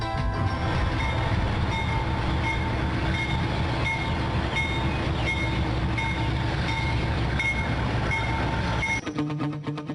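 Train of the Central Andean Railway at San Bartolomé station, a steady loud rumbling roar of rolling cars with ringing metallic tones, continuous throughout and changing abruptly near the end.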